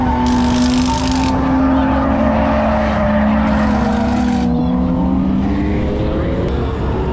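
Drift cars at the Zerbst drift event, with loud sustained engine revving and rising, falling pitch as cars slide past, tires squealing over a constant roar of motorsport noise.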